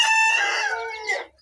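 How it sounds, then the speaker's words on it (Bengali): Bahama and desi chickens in a mixed pen give one loud, close crow-like call lasting about a second, with a clucking trail at the end. "এখানে বেশ কিছু বাহামা মুরগি এবং দেশি মুরগির বাচ্চা"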